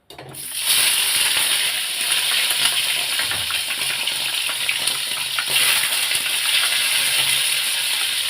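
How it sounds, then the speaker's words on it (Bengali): About 200 grams of paneer fries in hot oil in a pan, giving a loud, steady, hissing sizzle that starts abruptly and continues without a break, with no talk. "এখন একটু পনিরটাকে একটু ভেজে নিই, ভেজে তুলে নেবো।"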